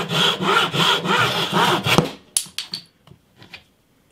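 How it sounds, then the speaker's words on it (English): Hand saw cutting through the end of a wooden guitar fretboard where the nut will sit, a steady run of close rhythmic strokes for about two seconds, then a few short scraping strokes as the cut finishes, with no talking. "I'm just going to have to cut the fretboard at the end here where the nut's going to go"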